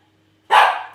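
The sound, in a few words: dog barking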